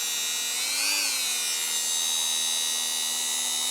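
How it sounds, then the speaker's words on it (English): Power Plus rotary tool, a Dremel-style tool, running at its lowest speed with a steady high-pitched electric whine, close and continuous, dipping briefly in pitch early on. "let's compare it to this Power Plus Dremel tool. Let's also start at the lowest speeds."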